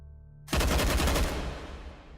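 An RPG-7 fires in the VR game H3VR, one sudden loud blast with a rough rumbling tail that fades over a second or two.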